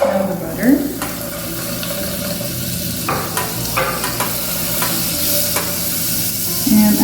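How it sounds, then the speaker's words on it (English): Butter melts in a pan with a steady, close sizzle and frying crackle, a few scraping stir strokes cutting through, before a pizza tomato sauce; no one speaks. "Let's melt the butter."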